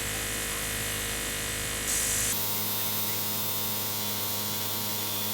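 A Luminess Air airbrush makeup device runs on its slowest setting with a steady electric hum and hiss throughout, the tone shifting briefly partway, alone without talk.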